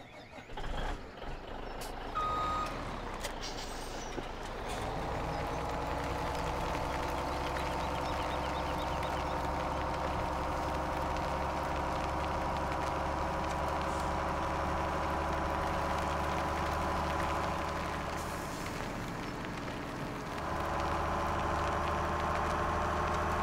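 Truck in Farming Simulator 17 idling with a steady mid-pitched engine drone and repeated reversing beeps, a brief air-brake hiss near the start and a shift in engine tone toward the end.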